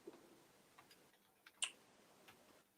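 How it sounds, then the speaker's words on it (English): Quiet, irregular clicking of computer keys, a few soft taps spaced apart with one sharper click in the middle, close by in a hushed room. "I need to get a quieter keyboard. I know you guys can hear me typing."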